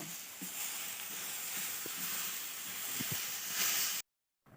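Soybeans sauté in spiced oil in a pan, giving a steady, close sizzle and hiss with a few soft stirring knocks, then cutting off abruptly into silence near the end.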